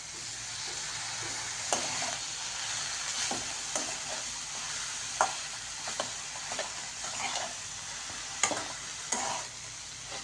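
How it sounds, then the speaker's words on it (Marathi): Washed ghol (purslane) greens sizzle and fry in a hot pan while being stirred, steady hiss broken by sharp scraping stir strokes, close and alone with no talk. "आता टाकणार आहे स्वच्छ धुवून घेतलेली घोळाची भाजी"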